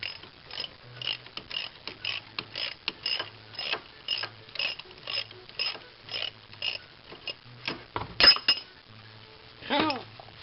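A ratchet wrench clicks in steady rapid bursts while loosening rear brake parts on a Fozzy, close and dry, with brief clinks of tools between strokes and a short squeaky scrape near the end.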